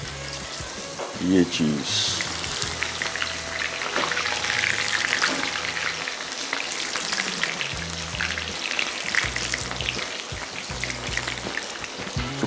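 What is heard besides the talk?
batter-dipped chicken pieces frying in oil in a kadhai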